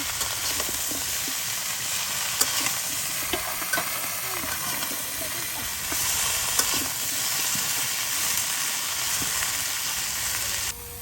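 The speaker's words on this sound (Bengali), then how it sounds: "তো বন্ধুরা একে এখন ভালো করে বরকলিটা বাইজা নিব" Bor koli (jujube) fry in a pan with a loud, continuous close sizzle and hiss, broken by occasional clicks of stirring.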